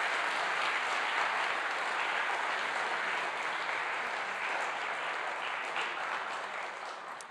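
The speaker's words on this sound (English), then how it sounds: "Let's give them a round of applause." Sustained audience applause at an FRC robotics kickoff ceremony in Atlanta, a dense, even clapping from a large crowd that holds for several seconds and tapers slightly at the end.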